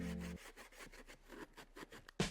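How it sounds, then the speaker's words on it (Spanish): Sandpaper worked back and forth over the cutout edge of a plastic bumper on a 2016-2020 Mercedes-Benz E-Class W213 sedan, giving close, repeated rasping strokes in an uneven rhythm, with a louder scrape at the end. "Con la ayuda de una lija afinaremos el recorte realizado."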